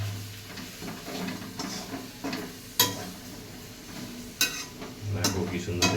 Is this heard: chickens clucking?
no